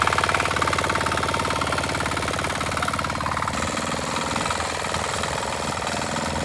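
A new tractor's engine runs steadily outdoors in a village field at planting time, a continuous loud rumbling drone with a knocking pulse that holds throughout.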